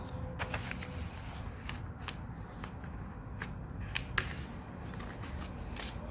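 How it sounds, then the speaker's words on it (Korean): Scissors snip through two sheets of paper at once while a paper snowflake is being made: a quiet run of crisp, irregular cuts and rustles close by, with no speech. "다 잘라줍니다. 저는 한 번에 두 장씩 할게요."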